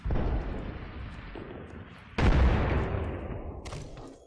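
Two heavy booms from a grenade blast in a shooter video game, one at the start and a louder one about halfway through, each followed by a long rumbling decay, with no voices.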